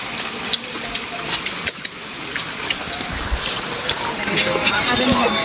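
Okhreni waterfall gives a loud, continuous broadband rush of falling water that fills the whole clip, with a few sharp knocks and faint voices partly buried in it.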